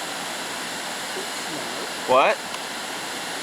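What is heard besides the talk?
waterfall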